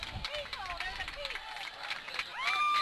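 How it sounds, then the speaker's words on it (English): Fans in the stands at a high school football game between Middle Tennessee Christian and Cascade, a murky, fairly quiet crowd murmur with scattered cheers and whistle-like tones, with people talking nearby. "You'll hear crowd noise."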